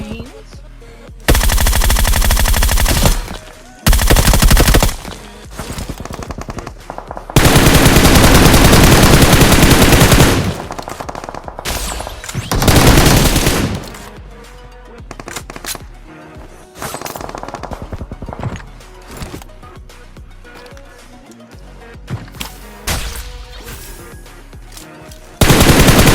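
Loud bursts of rapid automatic gunfire and single shots from a video game, arriving in long dense volleys separated by quieter gaps with scattered impacts.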